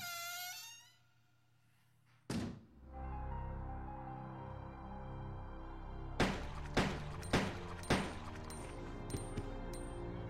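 Gunfire in a video game: a single sharp bang, then a quick run of several more shots, each a crisp close crack over a steady low ambient drone.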